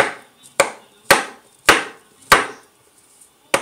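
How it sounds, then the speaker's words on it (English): Kitchen knife dicing mushrooms on a chopping board, heard as six sharp, evenly spaced chops with a short ring after each, close and clear with no talking. "So I'm just going to now cut through this and basically just going to dice up some mushroom."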